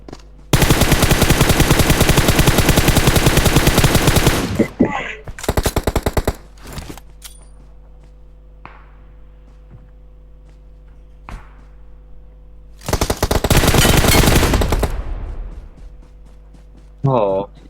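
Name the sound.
gunfire in video game PUBG Mobile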